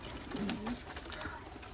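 Domestic pigeons in a loft give a soft, low cooing call near the start, followed by fainter background rustle and noise.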